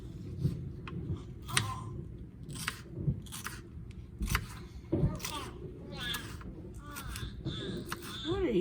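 Sharp, uneven snips and crunches of something being cut up at a kitchen counter, with repeated bright clicks over a low background of voices and household noise.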